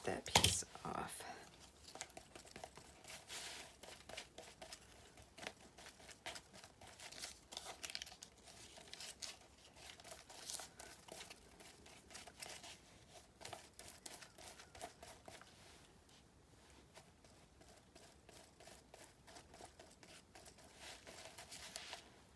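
Paper being cut with scissors for a junk journal, a dense run of crisp snipping and crinkling close by, rustling continuously and mostly alone with a brief pause near the end.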